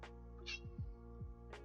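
A pet cat meows a few times indoors, short close calls separated by quiet gaps, with a faint background hum and no talk.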